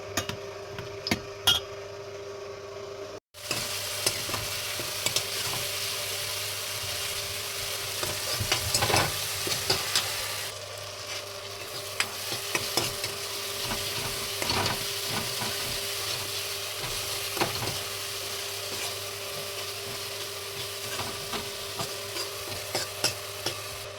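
Potatoes fry in a pan with a steady close sizzle and crackle, joined by occasional knocks and scrapes of stirring, after a brief silence in the first few seconds.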